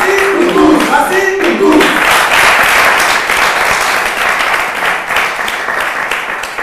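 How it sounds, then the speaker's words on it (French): A studio audience breaks into sustained applause, a dense wash of clapping that holds steady for several seconds, with a voice and brief musical tones at the start. "Vous allez vous applaudir."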